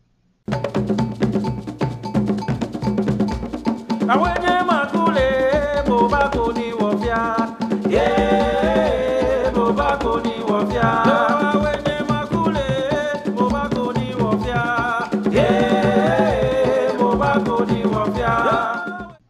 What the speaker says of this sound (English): In a common West African style of music known as call and response